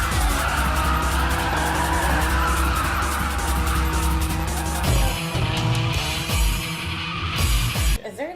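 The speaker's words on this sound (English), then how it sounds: "watch Fast and the Furious 2 Tokyo Drift to see some quality car build and quality drift racing in action" A car drifting in the film Tokyo Drift produces loud, sustained tire squeal and skidding over a revving engine, close and continuous, with shifting screeches toward the end and no talk.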